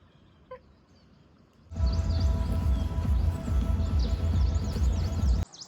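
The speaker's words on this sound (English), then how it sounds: "It's very peaceful. I can hear the birds." Chirping birds call high and thin above a loud, steady outdoor rush of wind or water.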